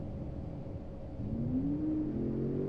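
A truck engine in Euro Truck Simulator 2 idles with a low rumble, then climbs into a rising whine as it revs up, heard close with no talking.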